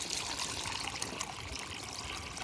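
Water poured into a pesticide sprayer tank in a village setting, a steady close, continuous splashing trickle running throughout with no talking.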